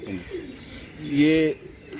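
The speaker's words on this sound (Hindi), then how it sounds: "ये वो कबूतर है" A racing pigeon gives a soft, throaty coo that swells in the middle, close by, with faint chirps and background murmur around it.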